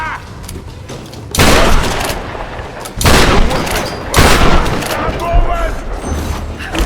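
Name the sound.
gunshots in the Tomb Raider video game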